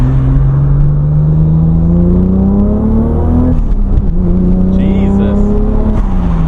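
A stock Toyota Supra with a single-turbo 1JZ engine accelerates hard through the gears, its revs climbing in a long sweep, dropping briefly at a shift and climbing again, loud and close from inside the cabin.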